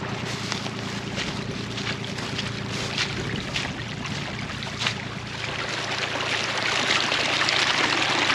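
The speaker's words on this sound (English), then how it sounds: "there's water." Water flowing steadily through a small drainage creek in grassland after a storm, a continuous rushing trickle with wind buffeting the microphone, close and constant for several seconds without talk.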